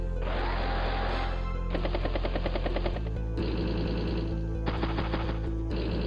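Turn-based strategy game Advance Wars: Days of Ruin plays a loud run of rapid machine-gun style bursts and thudding impacts as units strike a tank, with a steady low drone beneath and no talk.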